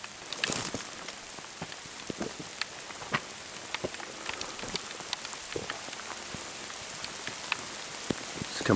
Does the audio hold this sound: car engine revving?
no